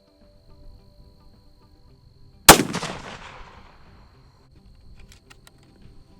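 A Christensen Arms Traverse rifle in 6.5 PRC fires a single Federal Terminal Ascent round outdoors, a sharp loud crack with a decaying echo, followed by near silence and faint insect chirps.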